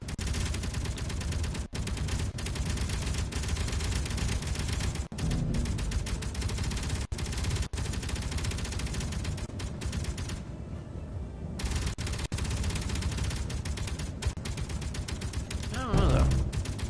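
Colonists' gunfire in the underground colony survival game Helios, a dense, continuous barrage of rapid shots running almost without pause, with brief gaps and a voice talking over it near the end.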